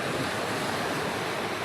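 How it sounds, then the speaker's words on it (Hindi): Sea waves washing onto a beach at night with steady wind gusting across the microphone, a continuous broad roar without pauses or voices. "इतनी अच्छी हवा चल रही है, सामने बीच है"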